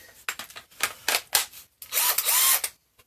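A cordless drill is handled and test-run, giving several short clicks and whirring bursts followed by a longer high whine of about a second, close and fairly loud with pauses between.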